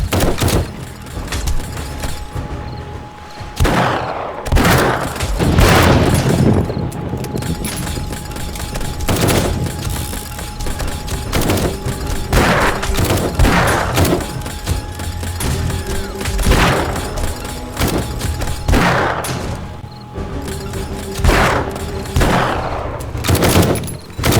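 Turret gunfire during a blood moon defence in 7 Days to Die, with repeated loud bursts of automatic shots and heavy thumps coming in waves over a steady background hum, without talking.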